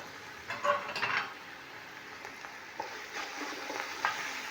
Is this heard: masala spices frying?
yes